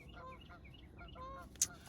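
Two geese give a run of short, nasal honks at moderate distance outdoors, with a sharper high call near the end over a low background rumble.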